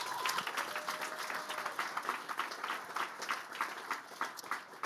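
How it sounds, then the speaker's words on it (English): Steady crowd applause at a tech demo day event held at Google headquarters, a fairly distant wash of many clapping hands with a few faint voices mixed in. "Let's give them a round of applause."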